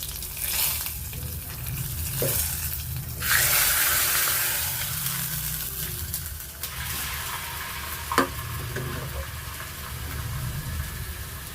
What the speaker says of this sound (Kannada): ಒಗ್ಗರಣೆ ಇದಕ್ಕೆ ಮಿಕ್ಸ್ ಮಾಡ್ಕೊತಾ ಇದ್ದೀನಿ.